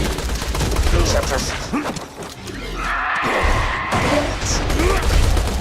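Video game gunfire in a chaotic shootout: dense, continuous bursts of shots and impacts mixed with other game effects, loud throughout with a brief dip partway, and a voice speaking over the action.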